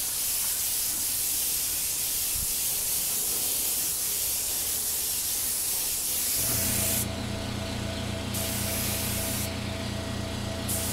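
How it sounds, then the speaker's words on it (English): Silver paint sprayed onto a Benelli motorcycle fairing outdoors in back-and-forth passes, a steady loud close hiss. It shifts to a mechanical droning tone with a gappy airy hiss about halfway through. No voices. "what I'm trying to do is go back and forth with the 90-degree angle sprays"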